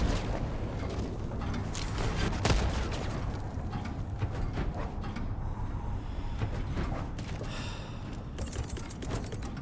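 A grenade explosion in the Helldivers video game sounds as a heavy blast near the start, over a dense, continuous wash of gunfire, rumbling battle noise and mechanical clatter that runs the whole time.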